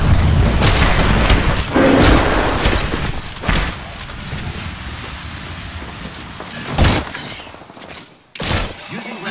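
Grenade blast in the Apex Legends video game: loud booming bursts over a dense, continuous roar of in-game noise, with a sharp thud near the end.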